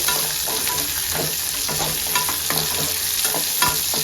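Ingredients for raw mango pachadi fry in a pan for a Tamil New Year meal, with a constant bright sizzle and repeated scraping strokes of a spoon stirring in an uneven rhythm, close and fairly loud.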